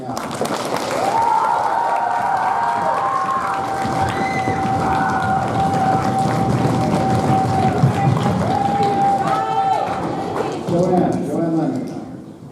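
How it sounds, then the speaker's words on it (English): An audience at an opening ceremony breaks into loud, sustained applause that lasts more than ten seconds, with a long whistle and some cheering rising above the dense clapping. "I want you to give him a round of applause right now."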